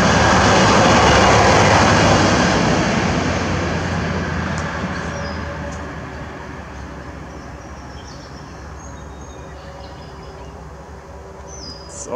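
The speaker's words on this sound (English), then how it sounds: "Here comes the train again." A train rolls past near a towpath trail by a bald eagle nest, a loud broad rumble close by at first that slowly fades as it moves away, with a few faint high squeals near the end.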